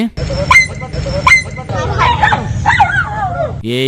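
A frightened puppy yelps and whimpers in short, high, strained cries, several in quick succession and close by, while people talk over it.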